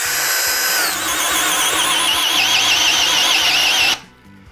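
A DeWalt DCD800 cordless drill drives a screw into wood until it pokes through the bottom, a loud, close, wavering whine with a brief pitch drop near the start, stopping abruptly near the end.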